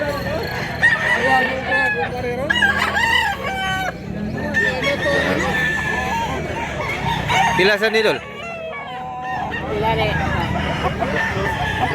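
Chickens and roosters at a Cebu market, with repeated crowing and clucking from several nearby birds over steady crowd noise and someone talking.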